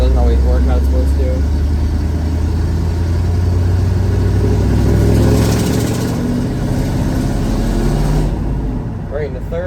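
A straight-piped truck with a manual transmission labors loudly up a steep hill, its engine droning and rising in pitch as it accelerates, with a shift in the middle and a person talking over the noise.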